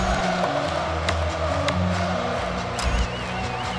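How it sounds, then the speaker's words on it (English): Loud stadium crowd noise at a college football game between Wyoming and LSU, a constant roar of cheering fans with no break across the few seconds. "Crowd's getting into it."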